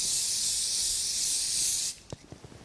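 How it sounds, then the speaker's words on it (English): Ballistol spray hisses steadily onto a cup for about two seconds, a loud continuous aerosol rush that stops abruptly, followed by a few soft handling knocks. "You just spray it on the textile perhaps on it."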